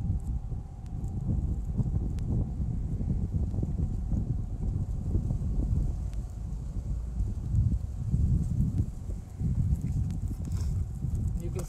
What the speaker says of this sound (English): the wind's ripping a little bit